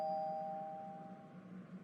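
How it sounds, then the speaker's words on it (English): A doorbell chimes once at the start of a movie scene, a clear bright tone that lingers and fades over a quiet low hum. "Doorbell."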